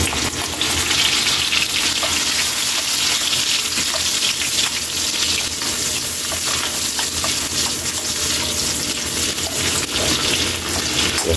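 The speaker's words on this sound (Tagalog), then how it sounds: "Ilagay na natin kaili yung sibuyas." Onion, garlic and ginger sizzle and fry in a hot pan, a steady close crackling hiss that runs without a break, with light stirring scrapes now and then.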